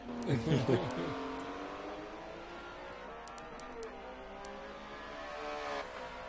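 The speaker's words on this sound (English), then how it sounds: "10-cylinder does sound good, though." A 10-cylinder race car engine in a racing video game drones and revs steadily at a distance at Monza, with a high whine sustained under people talking over it.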